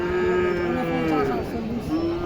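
Cattle low at a weekly rural cattle market in Chakgouri, Naogaon, one long, loud, close moo with a wavering pitch over a faint murmur of the crowd.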